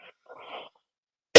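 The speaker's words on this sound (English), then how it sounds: "Excuse me, sorry about that cough." A single short cough, close and fairly loud, cutting sharply in at the end after a few faint murmurs.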